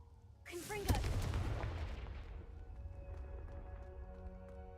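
A Confringo blasting spell in Hogwarts Legacy bursts with a sharp, loud explosive crack followed by a rumbling, decaying boom that lingers for several seconds; a single blast, no talk over it.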